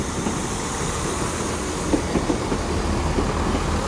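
A GWR IET intercity train pulls out of Exeter St Davids station, a steady rumbling rail roar with soft clickety-clack of wheels over joints, continuous and fairly close, with no talking.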